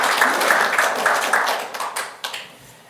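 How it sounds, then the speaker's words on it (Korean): A crowd at a breakfast prayer meeting bursts into applause after a prayer, brisk, fairly close clapping that quickly tapers off into a few final scattered claps. "응답하시는 우리 하나님께 영광의 박수 올리도록 하겠습니다"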